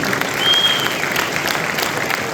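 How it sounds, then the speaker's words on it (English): A large audience at an evening talk event in Chicago with a UFC lightweight champion applauds in a dense, steady roar of clapping. The applause is loud and continuous throughout. "give a round of applause"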